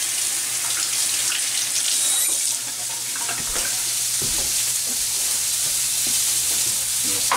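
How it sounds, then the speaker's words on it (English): Tap water runs steadily into a kitchen sink as hands are rinsed, with a continuous splashing hiss that holds for several seconds, a faint sizzle from fatty meat in a pan behind it and no talking. "I'm just going to rinse my hands off real quick."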